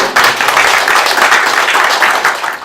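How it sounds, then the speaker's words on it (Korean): Clapping from an audience at a Korean CEO coaching forum, a loud, dense patter of many hands that swells quickly and tapers off at the end. "이 부분에서는 박수 한번 크게 나와야 될 것 같습니다"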